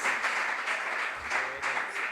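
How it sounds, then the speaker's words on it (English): Applause from a school competition audience for a student team, a continuous wash of many hands clapping at moderate volume, steady throughout. "Yes, they deserve a round of applause."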